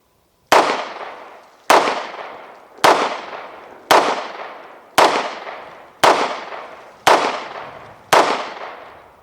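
Smith & Wesson Model 659 pistol fired eight times in steady succession, each loud sharp report decaying before the next at roughly one-second intervals, with no talk.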